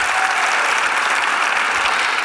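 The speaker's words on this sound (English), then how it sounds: "So big applause for them." Audience at a National Community Service conference opening session gives loud, sustained applause, with dense clapping filling the whole stretch without a break.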